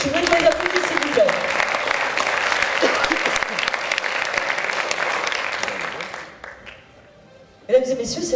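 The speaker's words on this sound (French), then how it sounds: "Je veux que les applaudissements, s'il vous plaît." An audience at an evening awards ceremony bursts into sustained applause, a dense wash of many hands clapping that holds steady for about six seconds, then fades out before a voice resumes.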